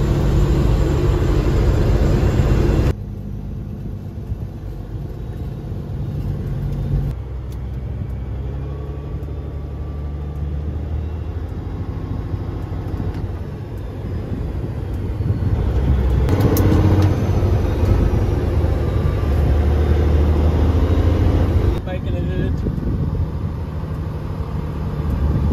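A Peterbilt 379 truck hauling a load of cattle drives along, its engine a loud steady low rumble with road noise inside the cab and shifts in intensity partway through.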